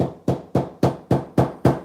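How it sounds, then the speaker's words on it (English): A soft hammer strikes metal wire while beetle rings are being made, landing seven evenly spaced, sharp, close blows at a steady rhythm with no talk. "I don't think this hammer is gonna do the job. This is like a soft hammer."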